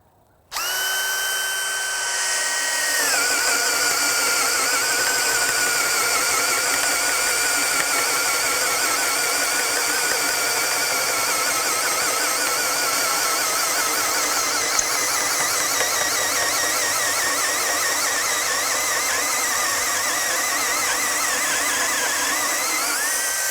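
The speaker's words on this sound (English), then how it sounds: "take a 2 5/8" bit and just see how deep we're going to go through this wood" A power drill with a 2 5/8-inch bit spins up and bores steadily into wood, a loud continuous whine with a grinding edge that strains slightly toward the end as the bit clogs.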